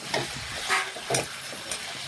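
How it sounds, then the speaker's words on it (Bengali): Potatoes and cauliflower sautéed with spices in a pan, a steady sizzle and frying hiss with soft scraping stirs every half second or so, close and continuous. "এখন মশলার সাথে ভালোভাবে মিশিয়ে আলু ফুলকপি আমি কষিয়ে নিচ্ছি।"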